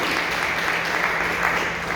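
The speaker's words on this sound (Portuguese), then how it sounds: "Uma salva de palmas para o Senhor" A church congregation applauds during a seminar service, a thick, steady wash of clapping from many hands that fills the room at full volume without letting up.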